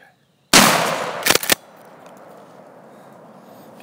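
A single loud gunshot on a turkey hunt in Georgia cracks out of silence and rolls into a long fading outdoor tail, followed by a few quick metallic clacks.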